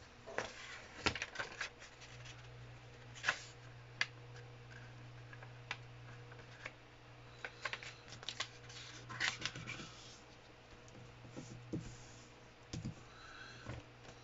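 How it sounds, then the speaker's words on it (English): Origami paper for a modular spinning toy is folded and creased, heard as scattered soft crinkles and sharp little taps over a quiet hum, faint and close. "You want to make the crease down the center. Now you want to fold it the other way."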